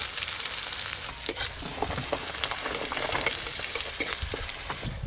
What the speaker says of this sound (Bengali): পেঁয়াজ কুচি ভালো করে ভাজা হয়ে গেছে